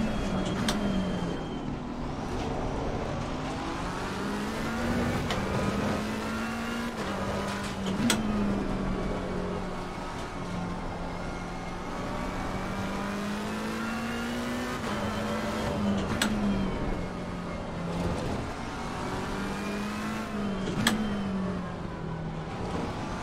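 A McLaren 720S engine revs and shifts through gears in an online racing game at Barcelona, a steady loud drone rising and falling in pitch with sharp gearchange blips every few seconds.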